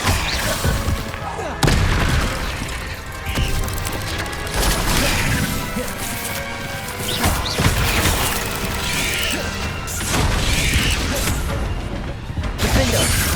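Bombarda explosion spells going off in Hogwarts Legacy, with several loud booming blasts and crashing debris over a dense, busy game soundscape and music, while a player talks over it.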